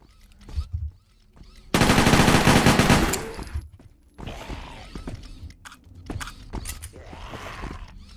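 Gunfire rattles from a gun in the zombie game Zompiercer: a loud sustained burst of rapid shots lasting over a second, followed by clanks and mechanical handling noises.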